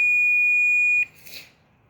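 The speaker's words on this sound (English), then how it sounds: "If they were, I would get a beeping sound just like that." A single sustained high-pitched electronic beep from a tester checking for shorted components inside a 2000-watt solar inverter, lasting about a second, then cutting off, followed by a faint brief rustle.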